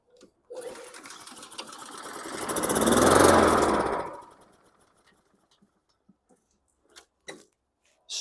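A 2013 Honda self-propelled lawn mower with gummy carburetor jets sputters to life, revs up to a loud roar, then stalls after a few seconds. Near silence follows, broken by a few faint clicks.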